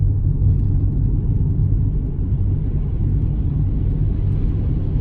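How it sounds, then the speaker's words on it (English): A loud, steady low roar of extreme wind buffets continuously around a 4x4 Chevrolet S10 pickup, deep and rumbling like air pounding against a vehicle. "the noise that you do hear is not because of like the car, it's just the extreme winds"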